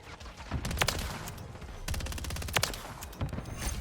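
Rapid pistol shots in the shooter game Modern Warfare 3, a string of sharp cracks in quick bursts with brief gaps between them, fairly close and loud against low background game noise.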